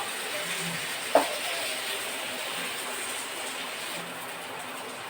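Spices temper in hot oil with an even, continuous sizzling hiss, punctuated by a single sharp clink of a ladle early on.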